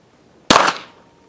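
One sharp pistol shot from a CZ P10S firing test ammunition, a crisp crack after a quiet moment with a brief decaying tail, outdoors.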